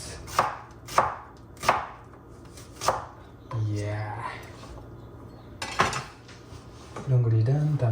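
A knife chops onions and tomatoes on a cutting board in a home kitchen: several sharp, evenly spaced knocks, then clattering of dishes and utensils, with a person speaking in between.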